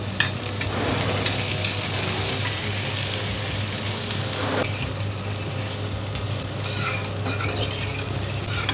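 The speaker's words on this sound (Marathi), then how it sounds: "यात आता उकडलेल्या बटाट्याच्या फोडी घालूया आपण." Boiled potato pieces with turmeric, salt and a pinch of sugar sizzle steadily in a pan, with scraping stirs and clinks of a utensil against the metal, loud and close with no talk.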